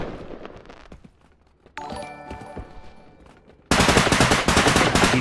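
Video game gunfire comes in rapid bursts of sharp shots, starting with scattered reports, then pausing for a ringing metallic passage, and ending in a loud, dense stretch of continuous fire.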